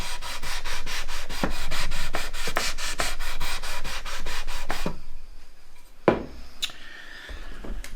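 Rhythmic back-and-forth rasping of sandpaper on a vintage CSL Les Paul guitar's wooden neck during a refret, quick regular strokes up close for several seconds, then it stops, leaving a few knocks and handling noises.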